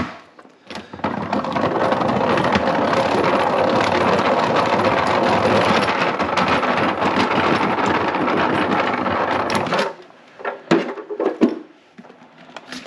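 A salad spinner whirring with kale leaves inside, a loud continuous rattling spin lasting about nine seconds, then slowing and stopping, followed by a few handling clunks.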